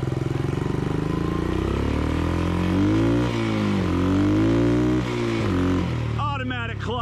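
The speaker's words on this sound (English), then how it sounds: "Got a little more tuning to do on the carburetor, but got it running pretty good." A 1974 Honda XL100 dirt bike with a swapped engine and a carburetor still needing tuning runs close by, its loud steady idle rising and falling with throttle blips before cutting off abruptly near the end.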